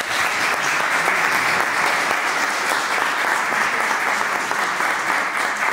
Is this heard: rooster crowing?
no